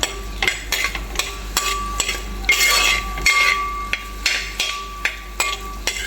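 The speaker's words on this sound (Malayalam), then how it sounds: "അപ്പോൾ നമ്മൾ ആദ്യമേ ഏത്തപ്പഴം നെയ്യിലേക്കിട്ട് ഒന്ന് വറുത്തെടുക്കുന്നുണ്ട്" Plantain pieces frying in ghee, stirred with a utensil that scrapes and knocks against the pan in a steady rhythm over a soft sizzle, close and alone.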